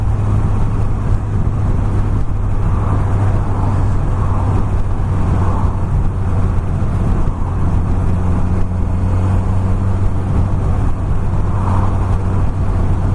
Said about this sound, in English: Oh, I hate getting stuck in traffic.